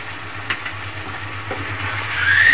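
Chili chicken with a generous amount of black pepper powder sizzles steadily in a pan, with a few soft scraping stir strokes rising over the continuous frying hiss, which grows slightly louder toward the end.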